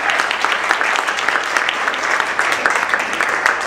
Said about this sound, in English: Big round of applause for Serena, Kia, and Ishan.